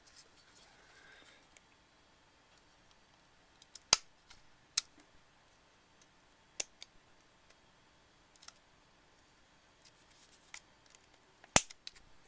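A potentiometer leg on a circuit board is snipped with cutters, giving a few sharp isolated clicks spread through near-silence, with one loud snap at the end and quieter handling ticks between.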